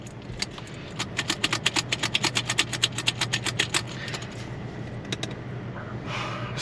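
A broken wheelchair part clicks and rattles in a quick regular series of about twenty metallic ticks, close and fairly quiet, before fading into light background noise.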